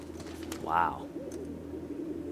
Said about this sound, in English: those are pigeons. You can hear them cooing and everything.